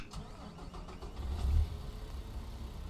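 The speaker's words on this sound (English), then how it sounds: "So let's fire this bad boy up, shall we? And let's hear it roar." A Kenworth truck engine in American Truck Simulator cranks and catches with a short low rumble, then settles into a quiet idle.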